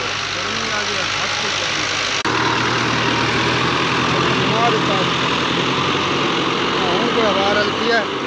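A tractor engine in a hot Punjab field runs steadily as the tractor crawls slowly over soft ground, a loud continuous rumble with a small jolt partway through.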